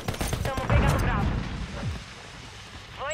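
Rapid gunfire from a Call of Duty MW3 multiplayer match on PS5, with dense bursts of shots in the first second that thin into scattered firing and background battle noise.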